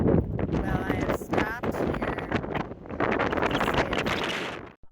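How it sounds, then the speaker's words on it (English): Wind buffets a microphone outdoors on a mountain road just reached pavement after off-road driving, a loud continuous rumbling roar running through the whole stretch with a voice talking beneath it, largely drowned out. "the wind made it impossible for you to hear what I was trying to say"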